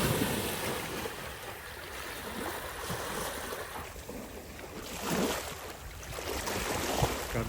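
Sea waves wash and surge around a swimming Rottweiler, a continuous rolling rush of surf with gentle swells rising and falling, moderately close and free of voices.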